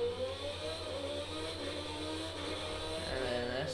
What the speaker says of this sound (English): Driving around in this loud car